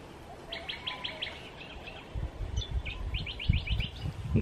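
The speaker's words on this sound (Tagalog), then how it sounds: "The birds are eating my banana." Small birds chirp in rapid, high repeated bursts while feeding on a banana outdoors, joined by nearby rustling and thumping handling noises in the second half.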